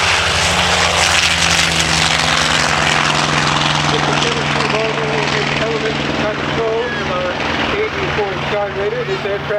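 WWII-era aircraft engine droning loudly and steadily at a Virginia Beach airshow, with someone talking over the public address throughout.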